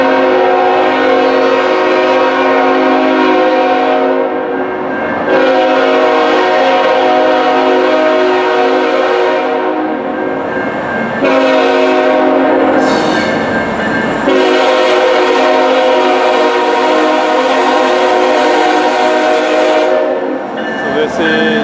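CN freight train led by locomotive CN3064 on Q104 southbound passes Spruce Control in New Westminster, a loud continuous rumble and rolling wagon noise with horn-like tonal blasts, steady and close for the whole stretch.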